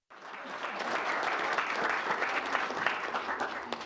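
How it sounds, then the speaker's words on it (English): A room full of people bursts into applause, broad dense clapping that starts abruptly and holds steady, heard at a moderate distance with a faint murmur of crowd beneath. "as you can hear, there's a lot of applause in the room"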